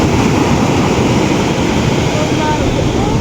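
Ocean surf washes onto a beach where people are swimming, a loud, continuous rush of waves and wind with no clear pauses.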